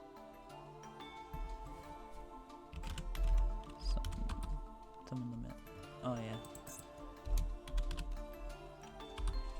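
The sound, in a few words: typing on a computer keyboard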